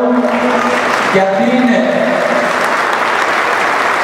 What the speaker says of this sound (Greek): Θέλω να ευχαριστήσω όλους τους αθλητές και τις αθλήτριες με ένα χειροκρότημα για όλους